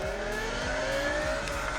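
A car in the video game Cyberpunk 2077 drives at speed with a continuous loud engine drone and rising revs, a steady close roar with no talking.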